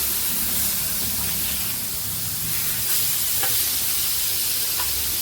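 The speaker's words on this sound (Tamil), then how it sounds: "மீன் நல்லாவே பொரிஞ்சிடும் சீக்கிரமாக." Karasara fish frying in oil in a pan gives off a steady, close, hissing sizzle that holds for the whole stretch, with a few faint crackles and no talking.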